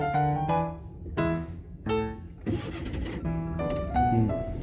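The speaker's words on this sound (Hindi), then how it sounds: "वापस क्लच दबा गाड़ी ऑन करो।" A car engine restarts after stalling, with a short cranking burst and catch, then a low idle. Someone speaks between the engine sounds.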